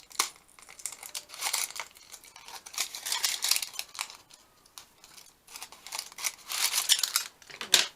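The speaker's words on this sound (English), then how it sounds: "I'll use these small scissors, I guess." Small scissors snip through paper in irregular bursts of crisp cuts, with paper rustling and crinkling close by.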